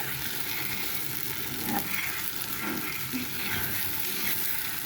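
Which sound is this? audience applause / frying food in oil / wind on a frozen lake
frying food in oil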